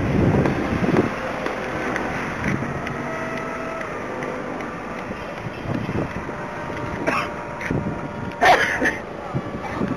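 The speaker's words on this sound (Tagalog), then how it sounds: "Gara ng hangin." Steady outdoor wind buffeting the microphone with a low rumble throughout during a paraglider flight at Aldea, along with occasional faint bumps and brief distant voices.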